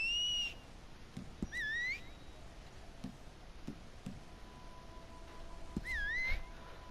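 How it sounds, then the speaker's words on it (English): A man in the video game Red Dead Redemption 2 whistles three short, rising and falling phrases that stand out clearly. Quiet clicks and footstep-like taps fill the pauses between them. "What's that guy doing in there whistling like a madman?"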